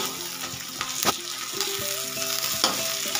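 Coriander and chili hit a hot pan with a steady close-up sizzle, with scattered clinks and scrapes of stirring over the continuous frying hiss.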